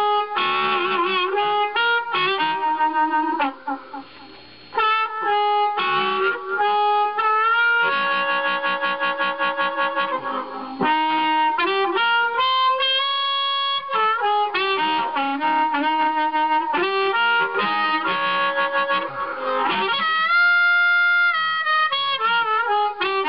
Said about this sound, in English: Crystal microphone sounds like this.